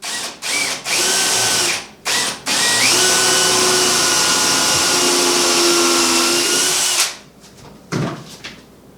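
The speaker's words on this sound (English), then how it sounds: "he's going to drill a pilot hole for our screw" A power drill whirs loudly and steadily for several seconds after a few short bursts, drilling a pilot hole for a screw while installing kitchen cabinets, then stops, leaving quiet with a faint knock.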